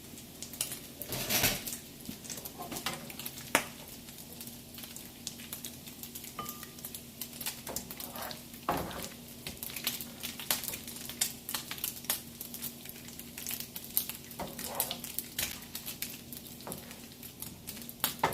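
Bacon fries in a pan, a soft steady sizzle with scattered pops and crackles, plus occasional utensil scrapes and clinks close by.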